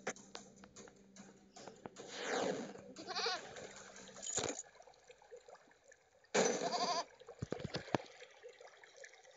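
Goat bleats from a browser video game, several wavering cries over busy game sounds with clicks and a couple of loud electronic bursts.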